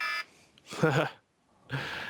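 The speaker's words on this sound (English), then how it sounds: "had a timer on" A kitchen timer beeps in two sustained, fairly loud bursts, separated by a brief stretch of someone talking.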